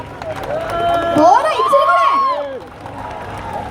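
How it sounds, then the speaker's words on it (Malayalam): Crowd cheering and clapping at a Dulquer Salmaan fan event, a loud swell of voices and whoops rising over steady clapping and babble, then easing back to a lower murmur. "ഇവിടെ എനർജി സേവിംഗ് മോഡ് നല്ല ആഞ്ഞത് കൈയടിച്ചേ"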